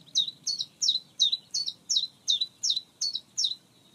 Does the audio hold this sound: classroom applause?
no